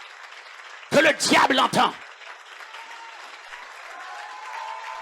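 A church congregation at a Haitian ministry service cheers and applauds in a short loud burst, then fades into a quieter murmur under a preacher's voice.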